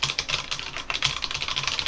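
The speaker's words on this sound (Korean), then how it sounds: "키보드를 이제 혹사시키면서 탁탁탁탁 좀 세게 누르시는 분들이 있어요" Hard, fast typing on a mechanical keyboard with brown switches, close and loud, a dense run of sharp clacking keystrokes with no voices.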